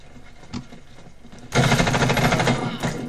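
Rapid automatic gunfire in the Warface shooter game bursts in loud and dense about halfway through, a sustained rattling volley after a quieter stretch with a single earlier shot.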